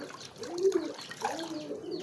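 A pet pigeon cooing softly near the microphone, a couple of low throaty coos in short phrases over a faint watery background.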